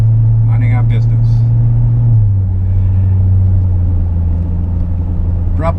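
A Corvette Z06 with an automatic transmission cruising along, its engine a deep, steady rumble heard from inside the cabin, dropping slightly in pitch partway through, while the driver talks over it.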